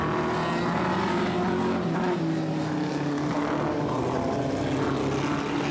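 A vintage speedcar imported from America races at Archerfield Speedway, its engine a steady, fairly distant roar that holds throughout without speech.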